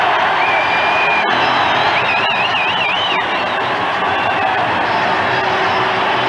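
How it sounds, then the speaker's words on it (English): A basketball arena crowd in San Antonio roars continuously, a dense wash of cheering with whistles rising and wavering above it throughout. "Listen to the crowd in San Antonio."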